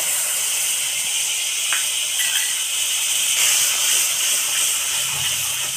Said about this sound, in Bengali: এখানে জিরে বেটে নিয়েছিলাম, তো জিরেটা দিয়ে দেবো এর মধ্যে।